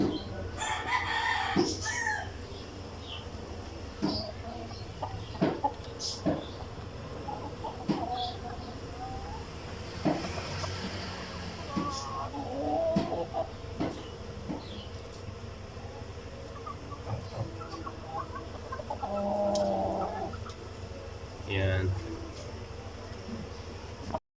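Backyard native chickens cluck softly and a rooster crows in a few drawn-out calls, set against light clicks, insect buzz and a low hum, all moderately quiet and nearby.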